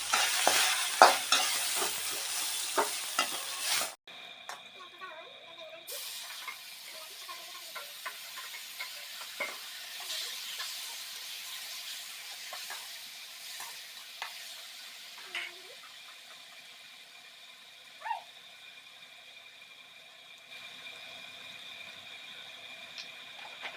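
Onions sizzle as they go into leftover oil from frying fish, a loud crackling burst at first that settles into a quieter, steady fry with occasional stirring clicks and spatters.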